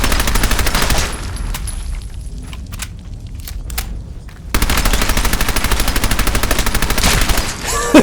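Gunfire in Fallout 4, a loud rapid automatic stream that breaks off for a few seconds of scattered single shots, then resumes in a long, dense, close burst.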